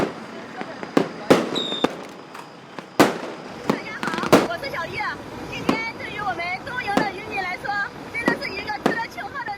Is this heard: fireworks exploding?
yes